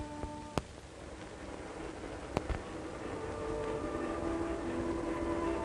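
A train on the Denver and Rio Grande Railroad rumbles steadily with no one speaking, a couple of sharp clanks early on over the broad, continuous roar that swells slightly toward the end.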